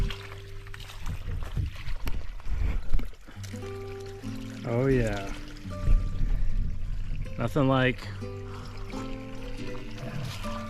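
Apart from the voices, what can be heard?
spring water pouring out of a pipe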